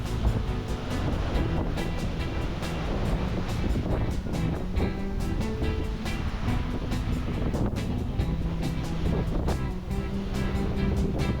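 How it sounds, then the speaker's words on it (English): Ocean waves at Jupiter Beach, Florida, with steady surf wash heard amid heavy wind buffeting on the microphone, continuous and loud, with no talk. "Checking out some waves again, seeing if I can line some up."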